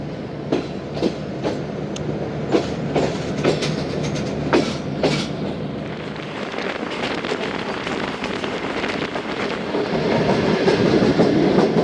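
Train passing Yusufwala railway station on the Musapak route near Lahore, running on rails with a steady clickety-clack of wheel beats and wind rush, growing rougher and louder toward the end.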